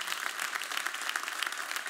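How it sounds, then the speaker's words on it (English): A church congregation claps steadily throughout, a dense even patter of many hands at moderate distance, with no distinct voices standing out. "If you're going to clap, then give them praise."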